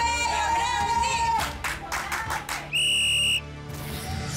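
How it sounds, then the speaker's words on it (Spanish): A referee's whistle blasts once, loud and sustained for under a second, during a penalty shootout in an Exatlón México football tournament, preceded by a steady whistled tone and crowd noise with cheering and clapping. "Silbatazo viene Mario."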